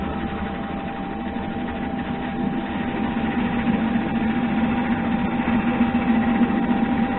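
A metal lathe running at about 200 RPM during a parting cut, giving a steady low mechanical hum and whine that builds slightly louder over the stretch, continuous and close, with no voices.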